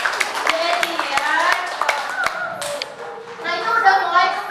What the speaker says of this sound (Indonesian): Terima kasih ibu, tepuk tangan buat ibu siapa?